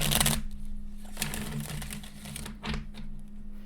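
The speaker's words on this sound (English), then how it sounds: "Just started shuffling and forgot." Tarot cards are shuffled in quick riffling bursts, with a loud flurry at the start and softer, irregular shuffles after it, over a low steady hum.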